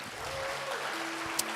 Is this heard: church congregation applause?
yes